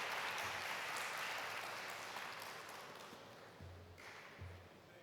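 An audience at the opening session of a YALI expo applauds steadily, a dense and moderately loud wash of clapping that slowly thins, with a few soft thuds near the end.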